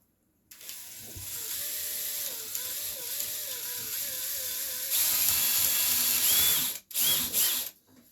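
A power tool snugs control arm bolts back down on an XTM Mammoth RC truck, a steady close mechanical whir and ratcheting drone that rises in pitch midway, then stops briefly and restarts before cutting off.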